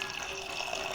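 Water pours into a curry pot in a short, steady, soft splashing stream, heard alone.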